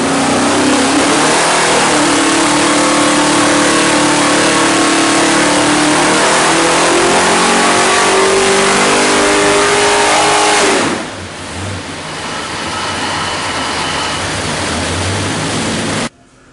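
A 700 hp big block Chevrolet V8 (582 cubic inch) running on Holley Terminator EFI revs loud and close, holding a strong roar before dropping to a steadier lower drone that cuts off at the end.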